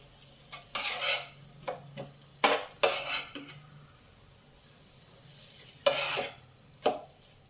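Protein cakes frying in a pan, with a spatula scraping and stirring in bursts over a steady low sizzle; close and fairly quiet, no talking.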